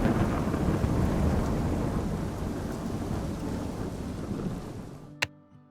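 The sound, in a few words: thunder from Immersive Thunder mod in Minecraft video game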